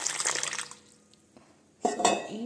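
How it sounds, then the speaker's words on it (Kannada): Hot water is poured into a container in two short, bright splashing bursts separated by a quiet pause, close up, with no talking. "ಆ ಬಿಸಿ ನೀರನ್ನ ಹಾಕ್ಕೊಳ್ತಾ ಇದ್ದೀನಿ."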